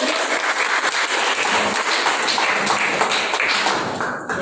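A classroom full of students claps together, a dense patter of hand claps at moderate distance that continues steadily for several seconds.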